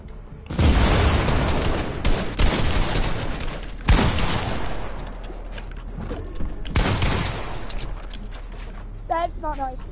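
Repeated bursts of gunfire in a creative-mode video game crack and boom loudly over several seconds, with a voice talking at times.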